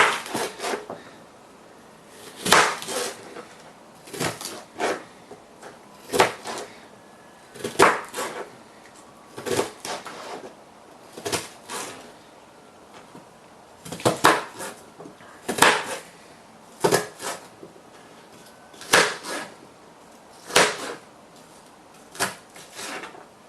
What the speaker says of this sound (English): I'm chopping up the onion.